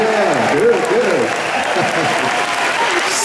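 A concert audience at a show in Luzern claps loudly and steadily, a dense wash of applause with a voice briefly rising over it.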